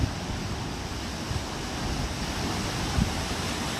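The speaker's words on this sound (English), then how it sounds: "look at these waves" Ocean surf at Point Buchon, a steady broad wash of breaking waves with a few heavier surges, close and continuous, mixed with some wind rumble on the microphone.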